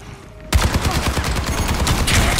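Rapid, sustained automatic turret gunfire in a video game, loud and close, hammering in a steady fast rhythm after a brief quiet start.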